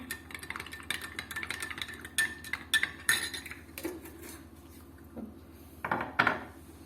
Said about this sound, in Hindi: इस मिक्सचर को अच्छी तरह मिक्स करूंगी